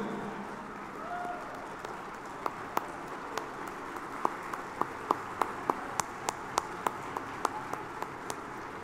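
An audience claps at a public event, answering a call for a standing ovation in Sangli. The claps come thin and fairly distant at first, then settle into a slow, regular rhythm, with a voice briefly audible underneath.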